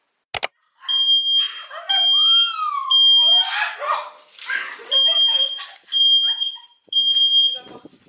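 A smoke alarm set off by smoke from grilling sausages beeps in repeated steady bursts, loud and close, while a dog whimpers and barks alongside and people talk.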